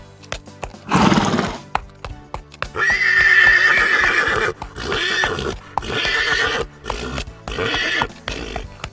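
Horses neigh and whinny loudly and close by in several drawn-out calls, with hoof clops and rustling between them.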